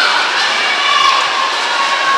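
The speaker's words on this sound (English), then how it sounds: "the shakers are already going. The crowd's starting to get into this" Crowd at a girls' high school swimming relay cheering steadily, with rattling shakers mixed into a dense, continuous roar throughout.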